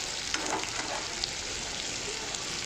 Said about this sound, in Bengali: পেঁয়াজগুলো দিয়ে দিচ্ছি এর মধ্যে।